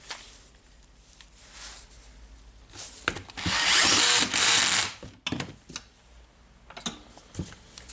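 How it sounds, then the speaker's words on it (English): A Makita DDF456 18V LXT cordless drill whirs in a short, loud burst while driving screws into its cover, framed by clicks and handling taps. "Just closing the cover. Tightening the screws."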